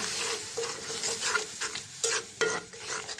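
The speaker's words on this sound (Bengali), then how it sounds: "হলুদের গুঁড়া দিয়ে দিলাম দুনিয়ার গুঁড়া লবণ মশলাটা এখন কষাই নেব" A spice paste with turmeric and salt is stir-fried in a pan, with close scraping and stirring strokes in short bursts over a light sizzle and no voices.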